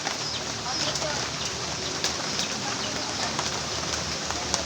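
Steady rain pours during a typhoon, a dense, even hiss that fills the whole clip, with faint voices in the background.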